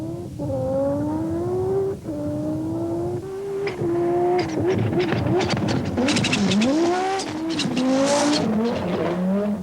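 The Audi race car of Walter Röhrl at Pikes Peak in 1987, engine revving hard and rising through the gears with loud rasping bursts and tyre noise, close and dominant with no talk over it.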